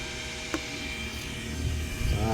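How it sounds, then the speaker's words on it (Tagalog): Cooling blower fan inside an old-model 68000 W inverter under repair, a steady close-up whirring hum with faint electrical buzz and a few soft handling knocks near the end. "May blower na siya."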